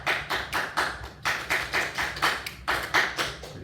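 Students clap back a short rhythm in a music class, about eleven even claps in three grouped phrases, near and fairly loud with no talk.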